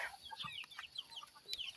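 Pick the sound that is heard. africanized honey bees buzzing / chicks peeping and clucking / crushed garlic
chicks peeping and clucking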